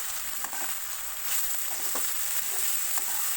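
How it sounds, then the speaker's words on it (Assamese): Finely chopped vegetables, including capsicum, fry in a wok for fried rice, giving a soft, continuous sizzle with faint stirring ticks. Fairly quiet, with no talking. "তো সকলোখিনি মই কেৰাহীখনত দি ভাজি ল'ম।"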